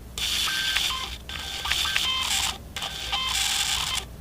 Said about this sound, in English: if I hold the camera shut while trying to extend the camera, it makes noises akin to the dial-up era